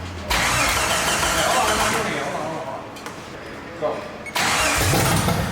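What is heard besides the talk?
1988 Jeep Wrangler YJ engine cranking and starting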